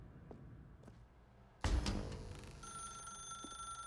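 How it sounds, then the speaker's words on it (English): A telephone rings inside the video game The Stanley Parable, a sudden loud onset of bright bell-like ringing that sustains with steady tonal overtones through the rest of the moment, heard alone without talk. "Now pick up the phone."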